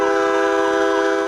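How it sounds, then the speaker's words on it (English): Deafening train horns mounted high in a backyard tree blare a loud, sustained multi-tone chord with a slightly wavering pitch, alone and filling the space. "Deafening train horns that were placed high on a tree in his backyard."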